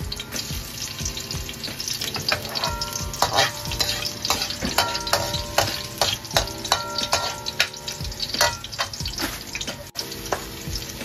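Cooking oil sizzling steadily in a frying pan while tinola is being prepared, a dense crackling hiss with frequent clinks and scrapes of a utensil against the pan, close and fairly loud throughout.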